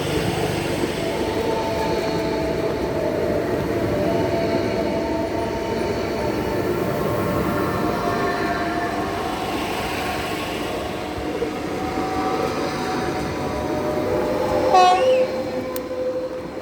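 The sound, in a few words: train passing, sounding its horn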